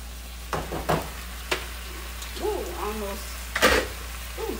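Marinated steak sizzles steadily in a hot pan as it is turned, a constant frying hiss with a few sharp scrapes and clatters, and a brief voice in the middle.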